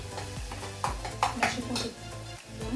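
Onion and tomato frying in a pan, with a steady sizzle under repeated scraping and stirring clatter from a utensil against the pan; speech is also present.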